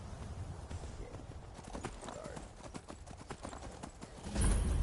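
A horse gallops in the video game Skyrim, with rapid, rhythmic hoofbeats clip-clopping up close and a heavy thump at the very end.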